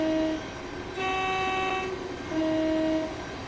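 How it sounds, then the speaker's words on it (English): In Train Sim World 3, a class 700/0 train sounds its two-tone horn in three blasts, one short, one long and one medium, over steady rolling rail noise. "Nice bit of the horn as well"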